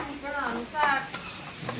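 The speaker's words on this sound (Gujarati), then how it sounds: "આ વઘારી નાખ્યું જો આમાં છે ડુંગળી એડ કરી છે ડુંગળી સતડાવી દીધી" Onion sautés in tempered oil for a chickpea curry, giving a soft sizzle with light stirring scrapes nearby while a voice is briefly heard.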